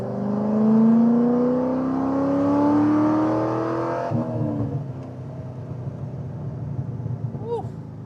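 A cammed Corvette engine revs hard and climbs in pitch for about four seconds, then drops to a rough, lumpy idle on a wet road. Faint talk sits underneath.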